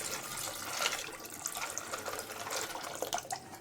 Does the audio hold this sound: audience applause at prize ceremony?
no